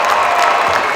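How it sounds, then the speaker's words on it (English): A crowd cheers and applauds as time winds down at a high school girls basketball game between North Quincy and Medfield, a steady dense roar of clapping and voices throughout. "Both sides, Medfield and North Quincy, they're up cheering on the players"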